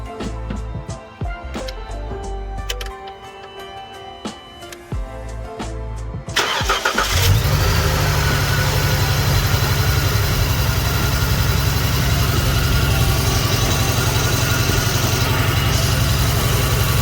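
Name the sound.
V6 Dodge Challenger car engine starting and idling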